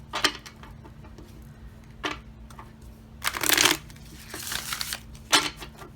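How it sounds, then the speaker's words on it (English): A tarot card deck being riffle shuffled up close, with several crisp, fluttering bursts of cards zipping together, the longest and loudest near the middle and a sharp snap toward the end. "And yes, I do riffle shuffle."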